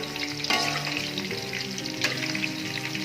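Chicken pieces for Mongolian chicken frying in hot oil, giving a steady crackling sizzle with a couple of sharper spatters and pops, close up and with no talking.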